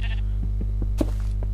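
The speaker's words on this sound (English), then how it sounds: "Normal sheep." A sheep bleats in the video game Minecraft, a short wavering bleat over a constant low mains hum with light tapping.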